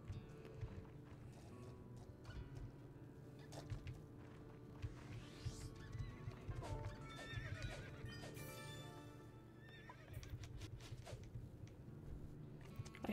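Horses whinny repeatedly over a busy bed of hoofbeats and clatter in the Roblox game Horse Life, with game sound effects layered throughout at moderate volume.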